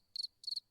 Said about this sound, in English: The cricket works.